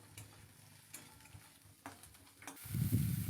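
Mushrooms frying in a pan, starting quiet with a few scattered scrapes and ticks, then a fuller sizzle swelling up near the end.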